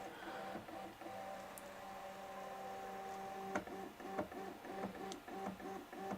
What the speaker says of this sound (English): printer may vibrate and be noisier during homing